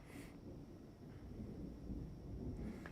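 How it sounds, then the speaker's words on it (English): Deep, continuous thunder rumbles from a storm moving toward Oklahoma City, heard from inside an office; the low roll swells slightly and holds steady for a few seconds with no talking. "We got thunder here at the office."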